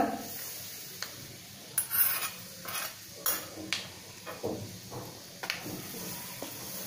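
Hot oil is worked into flour for masala puri dough: a spoon scrapes and clinks against a metal bowl in scattered, uneven strokes, quiet and close with no talking.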